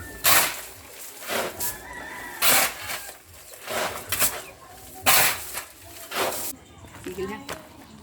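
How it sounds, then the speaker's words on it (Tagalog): Neighbour's chickens cluck and a rooster crows repeatedly next door in a Philippine home under renovation, with several loud crowing bursts recurring every second or so while people talk nearby. "Ito mga manok. Manok nung kapitbahay namin."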